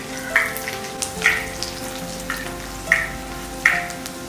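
Green chillies and curry leaves frying in hot oil for a vadukapuli lemon pickle, a steady low sizzle with soft stirring clinks recurring about every second, close and alone.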